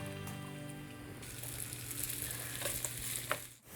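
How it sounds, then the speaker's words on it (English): Steady, close sizzling and crackling of corned beef hash frying in a hot waffle iron, continuous throughout with a few brief pops. "That's a good sizzle."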